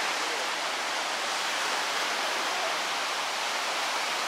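Ocean waves breaking at the Lower Trestles surf break during a surf contest, a steady, dense roar of churning whitewater with no distinct individual crashes and no voices.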